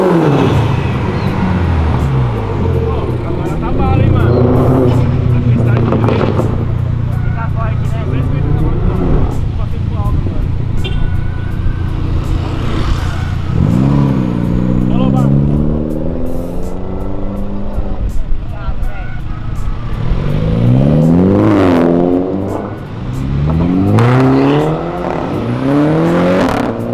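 Cars downshift and rev along Avenida Europa, among them Lamborghini, BMW and Ferrari. Engines rise and fall in repeated loud pulls and pass-bys, and people talk over them throughout.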